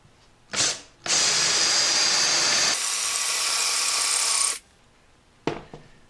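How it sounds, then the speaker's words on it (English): A cordless drill with a lubricated countersink bit whirs in a short burst, then runs for several seconds at high speed, its pitch shifting as the bit bites, followed by a brief click. "You can simply use a cordless drill. I'm going to start with a countersink bit"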